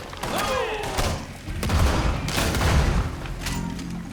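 Gunfire from a weapon in Red Dead Redemption 2, a few loud shots and thuds in close succession over game ambience, with a voice speaking briefly.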